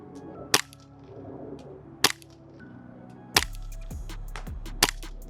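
A Tandemkross Cthulu gas blowback airsoft pistol fires 0.28 g BBs outdoors. Four sharp, loud cracks come at irregular intervals over a steady low background hum.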